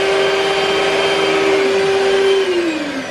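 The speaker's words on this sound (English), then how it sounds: "it's been whisking for about 5 minutes" An electric mixer whisks meringue mixture in a bowl, a loud steady motor whine close by that holds one pitch and then drops as it slows near the end.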